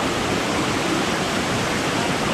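Monsoon-swollen mountain waterfall near Bandarban, a loud, steady broadband roar of rushing water filling the whole stretch without pause.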